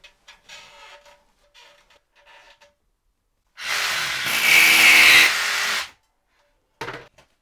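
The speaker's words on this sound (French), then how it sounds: "il suffit simplement de repercer à un endroit différent" A power drill re-drills fixing holes in a different spot while Isover Panodal insulation is fitted in a garage. It gives one loud whirring burst of about two seconds, with a brief quieter drill blip afterward and soft handling noises before it.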